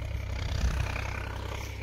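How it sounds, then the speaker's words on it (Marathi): Solis 4515 tractor engine working steadily while pulling a Lemaken plough through red soil in a field, a continuous low mid-range drone heard close and alone. "ट्रॅक्टर तर मस्त चालतो, काही विषय नाही."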